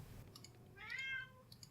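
A cat gives a single short, faint meow, accompanied by light clicking or typing sounds in a quiet room.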